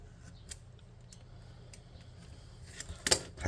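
Scissors snip through a piece of material for futuristic bot factory terrain built for a tabletop role-playing game, a couple of soft cuts followed by a louder, closer snip near the end over a quiet background.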